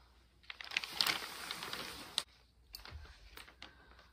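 Scissors cut gift-wrapping paper in a straight line. Soft, faint papery swishes and crackles come in a couple of short bursts, close by in a quiet room.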